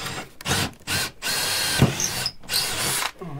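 A power drill bores into a boat's mizzen base support in several close, loud bursts, whining steadily with brief pauses between runs and no talking.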